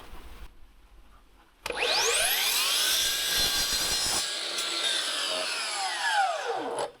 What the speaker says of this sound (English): We'll swing this around to 45, and I'm going to cut that on a 45 angle.